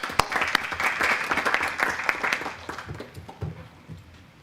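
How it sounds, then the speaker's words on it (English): Applause from a school board meeting audience welcoming a guest speaker, a dense wash of many hands clapping that starts strong, then gradually thins and fades out. "Let's give Mr. Fontenette a round of applause"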